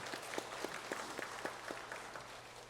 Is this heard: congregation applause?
yes